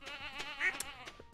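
A sheep bleats in the farming video game Stardew Valley, a short wavering call heard clearly on its own over faint background game sounds.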